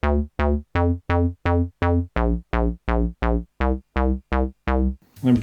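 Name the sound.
square wave bass on a Korg Volca synthesizer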